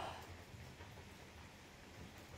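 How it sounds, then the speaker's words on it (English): Steady rain falls and patters on surfaces as an even wash of broadband hiss. It sounds fairly close and keeps a constant level with no talking. "Do you hear the rain?"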